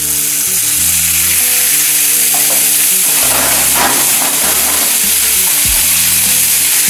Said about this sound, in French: Je fais réduire le jus de pot-au-feu pour bien concentrer les goûts.